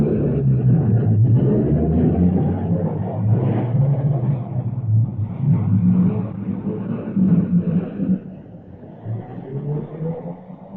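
Ambulances and cars pull away from a station during a 1940 London air raid, a low rumbling engine noise with revving that swells and then fades as the vehicles depart, heard through old broadcast audio.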